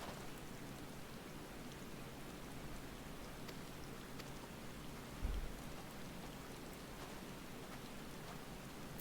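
Steady rain falls throughout in the video game Final Fantasy XIV, a constant hiss of drops with one brief low thump partway through.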